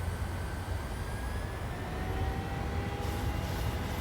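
Steady, loud jet engine roar from a PMDG 737-800 in Microsoft Flight Simulator, with a faint rising whine as the engines spool up on approach to Tegucigalpa, continuous and without talk.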